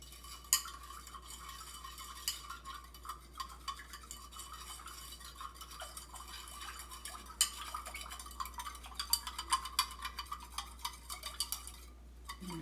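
A spoon stirs sugar into water in a glass, with quiet, irregular clinks and scraping against the sides, faint and close with no talking.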